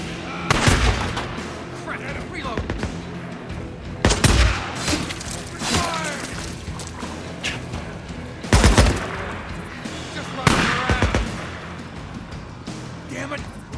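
Repeated gunfire bursts from the video game Days Gone, loud sharp shots in clusters spaced across the scene with reverberant booms, alongside game voices and shouting between volleys.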